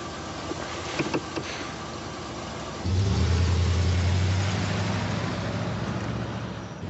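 A car engine turns over and catches, then settles into a steady low rumble that holds as the vehicle pulls away, fairly loud and close with no talk over it.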